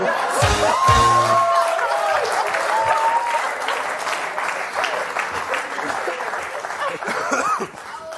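A studio audience at a comedy show claps loudly and steadily for several seconds, mixed with some laughter, a few whoops and voices, before the applause fades near the end.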